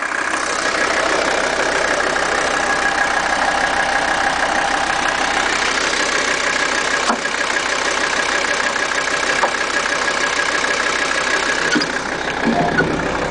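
A Mercedes 300 Turbo Diesel five-cylinder station wagon running on biodiesel, with new glow plugs, idles steadily with a constant diesel clatter and drone, close and loud throughout, without talk.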